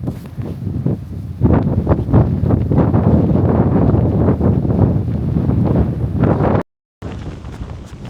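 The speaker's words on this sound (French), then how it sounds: "il y a pas mal de vent en plus" Strong wind buffets the microphone on the black sand beach at Te Henga, a loud, rumbling roar with gusting swells and a brief dropout near the end, with no voices heard.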